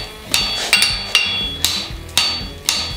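A blacksmith hammers the toe quarter of a forged horseshoe on an anvil horn, six loud ringing metallic strikes spaced about half a second apart, each followed by a brief bright ring.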